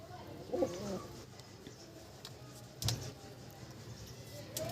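Pigeons kept at a relative's house in a pigeon-fancier's setting give two soft, low coos, one early and one later. A faint, steady background hum runs between them.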